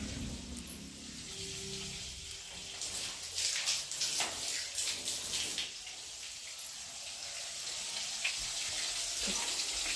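Vegetables are rinsed under a running kitchen tap, a steady broad hiss of flowing water with splashy bursts where they are handled, faint and fairly close, no voices.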